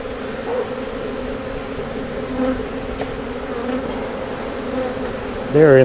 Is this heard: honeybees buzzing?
yes